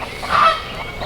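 Backyard chickens give an alarm call: a loud, harsh squawk swells in the middle of the clip over a steady outdoor background, with no talking.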